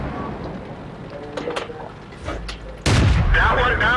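Tank cannon fire in the video game World of Tanks: muffled rumbling and scattered thumps, then a sudden loud boom near the end, with voices talking over the battle.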